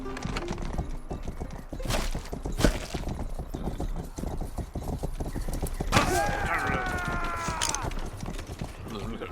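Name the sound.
horse hooves clip-clopping in the video game Rustler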